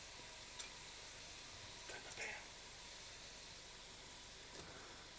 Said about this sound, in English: throw it into the frying pan here. Put it into the olive oil.